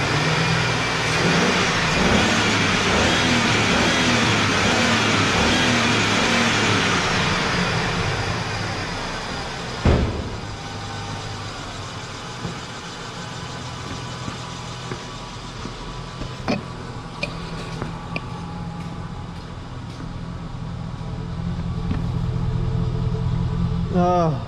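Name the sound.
Chevy Silverado engine revving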